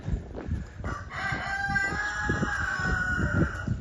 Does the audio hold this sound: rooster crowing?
yes